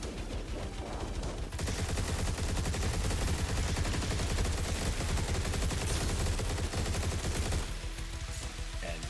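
Twin Incendiary guns fire continuously in a video game, a dense rapid stream of loud shots layered over busy game sound. The barrage holds steady for most of the stretch, then drops back toward the end.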